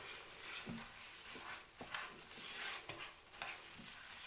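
Gram flour barfi mixture being stirred in a pan, a spoon scraping and dragging through the thick paste in repeated strokes with a faint sizzle beneath, fairly quiet and close.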